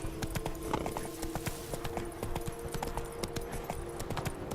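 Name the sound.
horse Roach galloping, hooves clip-clopping, in video game The Witcher 3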